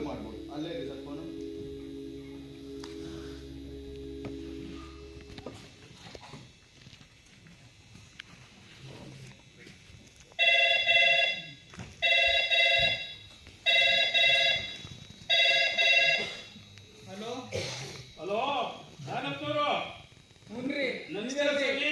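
A telephone rings on stage during a Kannada drama, heard as four evenly spaced, loud electronic ring bursts, followed by actors' voices.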